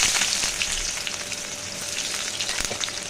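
Chopped onion frying in oil in a kadai, a dense, loud hiss of close sizzling with light clicks and scrapes scattered through it.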